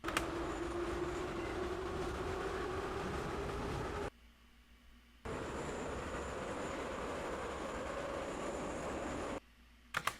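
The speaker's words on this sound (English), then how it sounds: "So that's actually from a subway, and it's getting closer and bigger and louder." A subway train rumbles with a steady loud roar, broken twice by abrupt cuts to near silence, the rolling noise sustained and close throughout.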